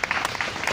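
Brief burst of steady, dense clapping from an audience honouring the Delhi Police Commissioner at a Saksham programme event, close and continuous.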